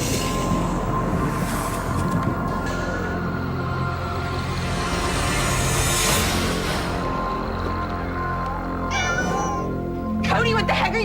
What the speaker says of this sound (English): Cody, Cody, where's my cat?